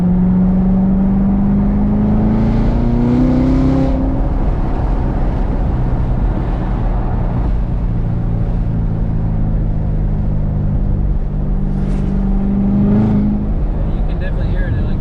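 Chevrolet C7 Corvette engine droning and revving while driving, a low, steady cabin rumble with rising and falling engine tones, heard from inside the car; people talk over it.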